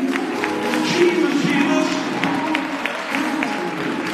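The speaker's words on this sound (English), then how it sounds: "Come on, let's clap right here." A church congregation clapping along during Sunday morning worship, a steady dense patter of hands over sustained singing and calls from the room, with voices throughout.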